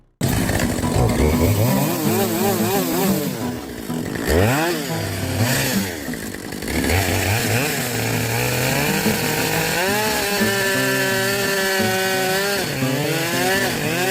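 A chainsaw roars loudly and continuously while cutting out a tree stump, its pitch rising and falling as the chain bites into wood and the engine bogs and revs.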